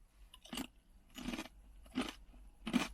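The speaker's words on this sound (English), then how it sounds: "You can absolutely hear how crunchy these chips are" Four sharp, loud crunches spaced about evenly apart, President's Choice kettle cooked potato chips being bitten close up against a quiet background.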